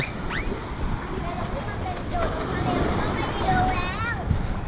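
A boat ride on the sea off Pattaya brings buffeting wind and the rush of water around the hull. People talk and exclaim throughout, close to the microphone.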